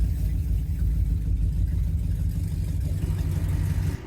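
A 1970 Dodge Challenger R/T clone with a 440 Six Pack V8, driven on the road: a steady, deep low rumble that holds at an even loudness throughout, with no talking.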